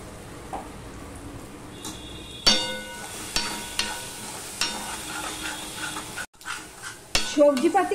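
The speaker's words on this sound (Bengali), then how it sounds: "পোস্তটা আমি আরো একটু ভেজে নেব" Poppy seed paste frying in a pan over browned onions for potato posto, with spatula scrapes and stirring clatter against the metal, a steady close sizzle underneath, and a few sharp knocks.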